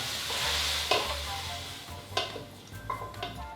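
Fatty ground beef frying in a pan, a steady close sizzle broken by several scraping stirs and clinks of a utensil against the pan, with no talk.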